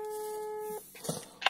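A phone call's steady ringing tone plays through a smartwatch, a single sustained electronic beep lasting under a second, followed by faint clicks and noise.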